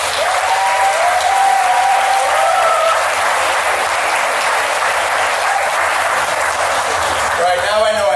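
An audience at a Salem State University first-year day of service applauds its university president, a sustained, dense wash of clapping and crowd noise, with brief whoops or voices near the end.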